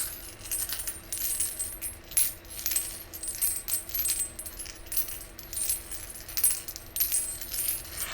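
Metal dragon dice shaken and rolled in the hands, producing a continuous, close, chime-like clatter of bright metallic clinks in irregular bursts, with no voices.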